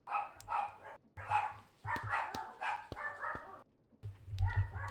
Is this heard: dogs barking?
yes